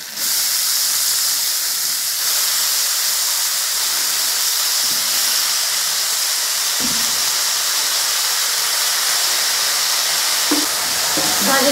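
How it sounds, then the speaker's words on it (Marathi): Radish greens dropped into hot oil that has been roasting a chili-garlic thecha, hissing in a loud, sustained sizzle with a few soft stirring scrapes and no voices. "आपला ठेसा झालाय तेलामध्ये भाजून आपण ही भाजी टाकून घ्यायची।"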